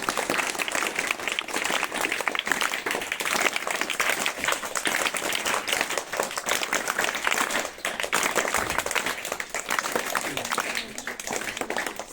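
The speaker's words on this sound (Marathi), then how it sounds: "सगळ्यांना विनंती करतो की आपण सर्वप्रथम या शाळेच्या प्रशासनाचं, सर्व शिक्षकांचं आणि गावकऱ्यांचं आपण टाळ्या वाजून स्वागत करूया." A crowd at a village school gathering claps steadily to welcome the school staff, teachers and villagers, with dense, continuous applause running the whole time at an even, fairly loud level.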